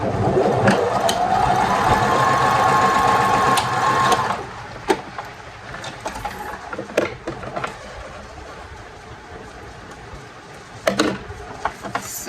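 A sewing machine stitching a fabric scrunchie runs in a steady buzzing whir for about four seconds, then stops, leaving scattered clicks and handling knocks of the fabric and machine.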